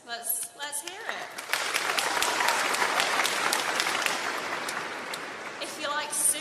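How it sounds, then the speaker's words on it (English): Audience at a graduation ceremony breaks into sustained, loud applause that fills the room for several seconds, with a voice talking briefly before and after. "You'll give them a clap and we'll see how you do."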